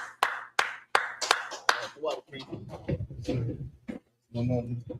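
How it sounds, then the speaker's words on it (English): A handful of sharp, close hand claps in an irregular rhythm open the moment at a lecture gathering, then a voice takes over and continues talking. "clap it up"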